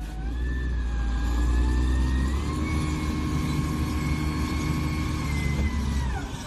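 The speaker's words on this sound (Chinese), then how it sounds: "现在我们的推土车再次进行尝试，" A bulldozer works at a failed dam breach, where trucks are filling the gap: a loud, steady engine drone with a shifting whine runs continuously throughout.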